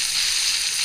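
Flour-coated fish fillets, seasoned with salt and cumin, half-fried in hot oil, giving a loud, steady, close-up sizzle with no talking.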